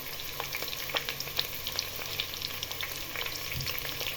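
Vegetables and garlic sizzle and crackle steadily in a hot pot for beef stew, with a constant hiss dotted with small pops, close by and uninterrupted.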